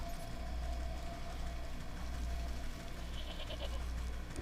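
A goat bleats faintly in the video game Wytchwood, with soft low bleats sitting over a steady ambient game background drone.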